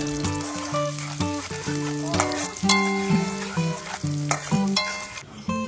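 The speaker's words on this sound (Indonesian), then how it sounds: "Kemudian cabai, bawang putih, dan bawang merah aku tumis." Chili, garlic and shallots sauté in a hot pan, a close bright sizzle broken by repeated scraping stirs, with music playing underneath.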